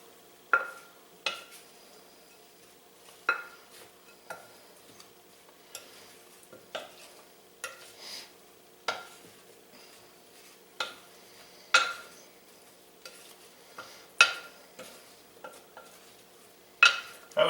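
Corned beef hash with thyme is stirred in a pan, a spoon or spatula knocking and scraping in irregular bursts against quiet sizzling, close and fairly soft, no talking.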